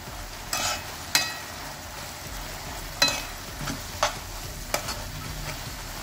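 A utensil scrapes and stirs Waghata vegetable in a pan in several separate strokes over a soft continuous sizzle, close by, with no talking.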